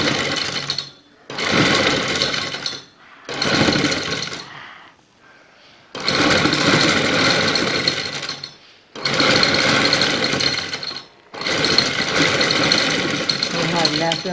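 Sewing machine stitching lace onto an embroidered neckline, running in five or six steady whirring bursts of a few seconds each with short pauses between, close and loud.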